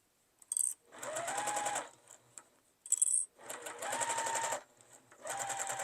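A sewing machine stitches a fabric bowl cozy in three loud bursts of steady running, with brief quiet pauses and clicking between them.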